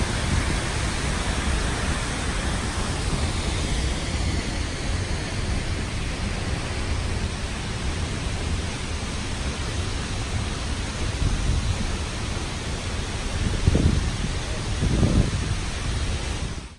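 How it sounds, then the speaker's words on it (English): Waterfall at Havasu Falls, a steady, loud roar of rushing and crashing water that fills the whole clip, with a couple of brief heavier surges near the end. "this is going to be a video of the waterfall right here"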